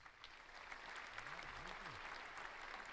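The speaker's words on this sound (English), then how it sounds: "Let's get some applause." A small studio group claps to welcome the first guest on a podcast, a soft, steady wash of applause lasting a few seconds, with a faint voice underneath partway through.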